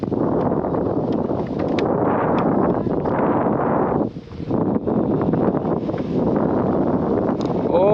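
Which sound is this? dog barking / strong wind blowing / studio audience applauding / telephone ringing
strong wind blowing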